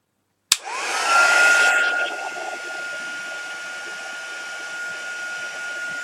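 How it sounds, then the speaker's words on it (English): A heat gun switches on with a sharp click and roars into a loud, steady blowing whine as it dries a layer of watercolour paint, settling to a constant airy hum. "Heat gun."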